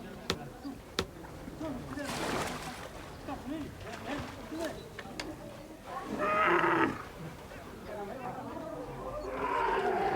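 Cattle at a water well in dry Borana country low several times, with deep, drawn-out moos rising over a voice talking through most of the stretch.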